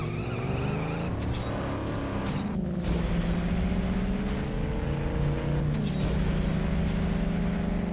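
A classic Chevy Impala in the CSR Classics racing game revs hard with wheel spin, a loud sustained engine drone with tire squeal and rising gear-change sweeps, no voices.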